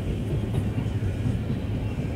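A long train rolls past nearby with steady, continuous low rumble and rail noise, unbroken and fairly loud throughout, with no voices over it.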